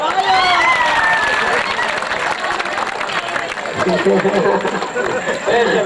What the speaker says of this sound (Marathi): टाळ्या टाळ्या बघा